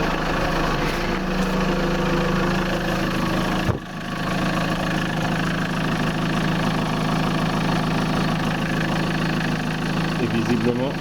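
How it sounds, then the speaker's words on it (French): An Opel Zafira B car engine idles steadily and fairly loudly nearby after an oil change, with a brief dip in the hum partway through and voices talking over it. "je démarre le moteur"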